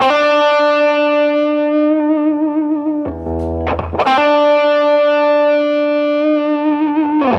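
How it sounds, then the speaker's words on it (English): A sustained electric guitar chord through the compressor effect of a Boss ME-70 multi-effects unit rings out evenly with long, smooth sustain, briefly cut off and then struck again, loud and close. "So I'm going to engage the compressor"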